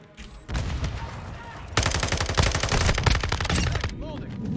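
Rapid submachine gun fire in Modern Warfare 2, a dense continuous burst that grows louder midway and carries on for several seconds with a faint voice under it.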